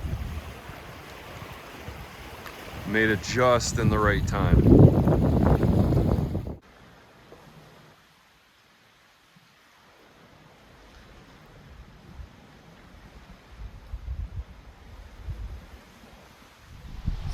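Ocean surf and wind roll steadily along an exposed shore at Rennell Sound on Haida Gwaii, and someone speaks briefly over the surf. The wind noise drops out for a few seconds and then the waves return.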